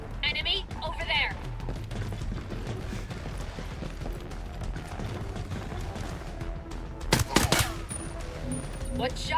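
Gunfire in the tactical shooter game Ghost Recon Breakpoint, with a sharp burst of loud shots near the seven-second mark standing out over a steady bed of game ambience and scattered smaller reports.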